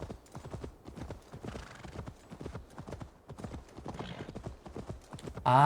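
Galloping horse hooves pound in quick, regular beats in Assassin's Creed Valhalla, near and moderately loud, with a short burst of sharper sound at the very end.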